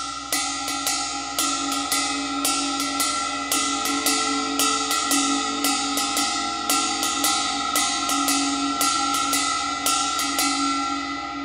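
A jazz ride cymbal plays a faster spang-a-lang pattern. Quick, evenly repeating strikes sit over a constant shimmering wash that sustains throughout, close and steady, with no voices.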